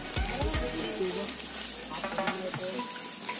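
Barrel fish wrapped in food foil cooks on hot embers, giving a steady close sizzle and crackle with a few soft low thumps near the start.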